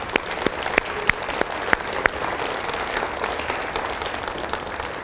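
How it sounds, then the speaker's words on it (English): Audience applause fills a school district's State of the Schools address, loud and close, with sharp individual claps standing out early before the clapping settles into a dense, even wash. "would you give them another round of applause"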